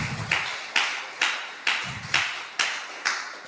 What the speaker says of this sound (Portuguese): Palmas bem alegres para Jesus